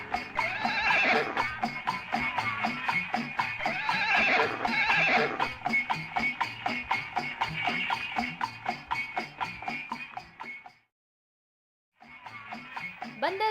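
A horse-drawn carriage on Bandar Road in Karachi, with repeated loud whinnies over a steady, rhythmic clip-clop of hooves that continues throughout, broken by one brief silence near the end.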